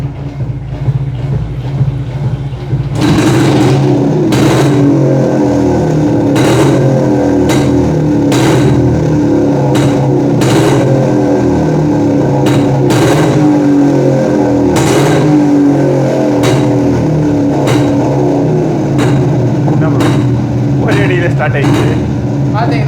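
A vintage Jawa Yezdi motorcycle, cold after standing unused for a long time, is kicked over and fires up, its single-cylinder engine then running loud and close with a steady thumping idle and sharp blips.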